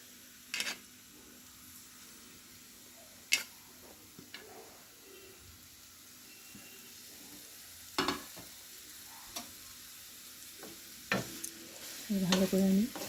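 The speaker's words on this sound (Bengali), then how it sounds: "ভালো করে আমি এটাকে ভাজতে হবে।" Grated beetroot fries in a pan for red velvet halwa, a soft steady sizzle under occasional sharp scrapes and clinks of a spoon stirring, with a brief louder sizzling burst near the end.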